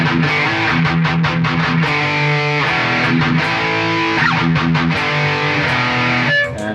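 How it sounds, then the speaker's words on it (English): Heavily distorted electric guitar through a Boss OD-200 pedal in X metal mode, playing a loud riff of rapid palm-muted chugs between sustained chords, steady and up close throughout. "X metal,"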